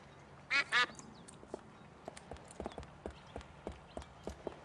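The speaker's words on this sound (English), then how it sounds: "I hear you, duck." Two loud duck quacks in quick succession from the video game Escape from Monkey Island, followed by a series of soft, evenly spaced clopping taps alongside faint ambient game sound.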